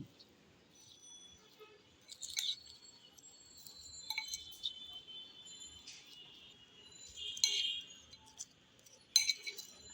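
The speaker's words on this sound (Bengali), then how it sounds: "আমি তো একটা চামচের সাহায্যে এই মিশানোর কাজটা সেরে নিচ্ছি" A spoon mixing spicy shrimp marinade in a bowl gives soft, scattered clinks and scrapes against the bowl, quiet and intermittent with pauses between bursts.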